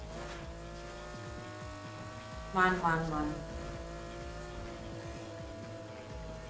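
A car engine in the racing video game Need For Speed Heat hums steadily, with a brief rev surging midway, while someone speaks over it.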